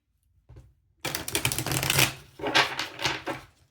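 A tarot card deck is shuffled close by in two bursts of rapid, papery riffling and clicking, with a short pause between them and no voice over it.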